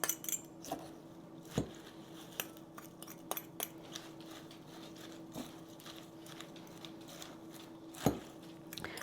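Salad greens stirred with dressing and soy sauce in a bowl, soft close scraping and rustling with scattered light clinks of a utensil against the bowl, quiet and unhurried.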